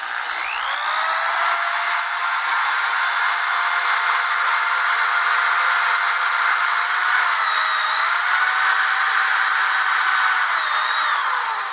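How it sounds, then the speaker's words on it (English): A power drill spinning a wire brush whines steadily and loudly for the whole stretch, its pitch wavering slightly as it scrubs against metal. "We're gonna see if we get the wire brush to clean this up."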